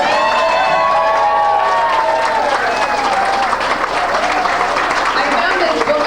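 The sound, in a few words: reunion audience applause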